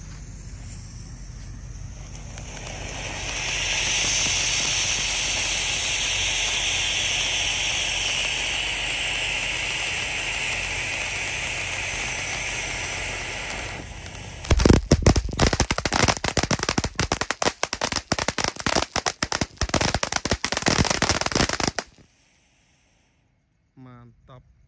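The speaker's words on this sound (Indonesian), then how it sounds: "Lanjut di sini ada Fantastic Fountain air mancur Pratek bola warna-warni." At night during Ramadan, a Fantastic Fountain firework that shoots colorful balls sprays with a loud sustained hiss, then breaks into dense rapid crackling pops before cutting out to near silence.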